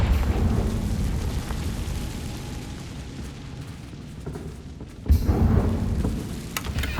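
A Confringo fire-blast spell in Hogwarts Legacy rumbles low for several seconds, then a sudden heavy burst strikes near the five-second mark, followed by crackling debris and a lingering roar.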